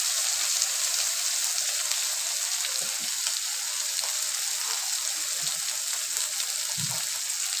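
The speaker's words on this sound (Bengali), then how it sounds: "এবার ঝিঙেটা ঢেলে দিলাম। ঝিঙেটা ভাজতে থাকবো।" Ridge gourd frying in a pan gives a constant, even sizzle with a hiss like light rain, steady and fairly close, with a few faint soft knocks and no talking.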